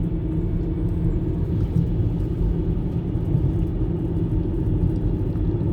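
A car drives along a long highway, its steady low road rumble and engine drone continuing unchanged throughout, with no talking.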